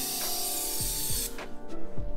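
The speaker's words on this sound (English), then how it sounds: "you gotta spray it with some brake clean, get it off" Brake cleaner sprayed onto new brake rotors during a performance brake install, a steady close hiss running for about a second and a half, then stopping, with a few knocks and clanks of handling afterward.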